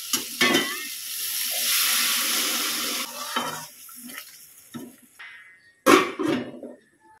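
Egg curry with potatoes and spiced masala in a home kitchen pan as hot water is poured in, a rushing pour and bubbling sizzle followed by intermittent stirring and scraping sounds.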